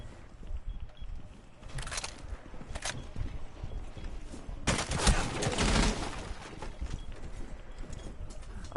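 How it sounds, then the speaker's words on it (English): Gunfire in Rainbow Six Siege punches through a wall: a couple of short cracks, then a longer rattling burst over a constant background hum of game ambience. "He's shooting through the wall."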